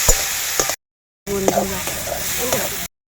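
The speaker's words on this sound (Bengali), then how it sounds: "আদা রসুন আর কাঁচা লঙ্কা বাটাটা দিয়ে দিচ্ছি বন্ধুরা" A ground ginger, garlic and green chili paste sizzles in a hot pan, a close, crackling hiss with utensil taps, cut by two short stretches of silence.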